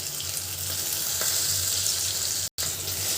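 Dried chili, onion and green chili frying in oil on a stove for a bottle-gourd peel dish, a steady close hiss of sizzling broken by a brief dropout, with no talking.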